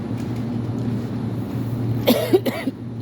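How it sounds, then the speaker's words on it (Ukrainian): Over a low steady hum, a person with a lingering cough gives a couple of quick, close coughs near the end. "Кашель у мене ніяк не проходить"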